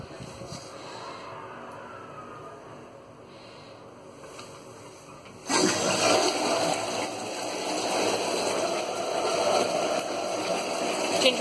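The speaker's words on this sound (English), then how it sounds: "I'm going to drop it in and turn on the water to show you a wonderful bath." Tap water runs into a bathtub, starting softly and then gushing loud and steady at close range for several seconds, with no voices over it.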